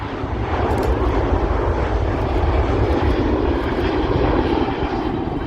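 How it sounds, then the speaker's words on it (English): A Singapore Airlines Airbus A350-900 departs Manchester Airport, its jet engines producing a loud, steady roar that holds evenly throughout with no talking. "Just departing, there's an Airbus A350-900."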